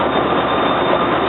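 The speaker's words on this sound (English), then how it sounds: "Got the regular Amtrak cars, and then you got the rest of the train" Amtrak passenger cars roll past at a station in a steady, continuous rumble of wheels and rail noise, close and fairly loud, with no break.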